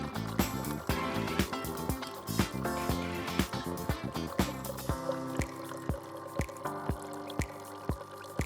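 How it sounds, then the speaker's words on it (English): A Nescafé Dolce Gusto Mini Me coffee machine rinses with water, giving a steady run of rhythmic pump pulses and clicks over trickling liquid, close and moderately loud, with no talk. "Mini-Me will start rinsing. This can take about 30 seconds."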